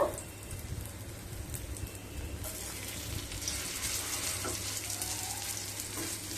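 Vegetable prawn pakoras fry in hot mustard oil, a rain-like crackling sizzle that swells louder partway through and stays steady and close.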